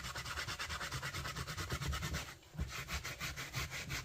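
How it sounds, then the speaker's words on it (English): A felt hat being buffed smooth by hand makes a quiet, steady back-and-forth rubbing, its strokes evenly rhythmic with one short pause midway and no talking. "So that's why you do the buffing to it to make your hat smooth."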